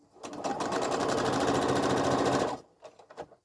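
A sewing machine runs steadily for about two seconds, stitching a quarter-inch quilt seam with a fast, even mechanical whir, then stops, followed by a few faint handling clicks.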